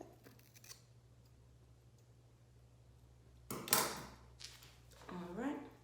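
Scissors snipping the ends of hair close by, two brief crisp cuts standing out against a quiet room hum.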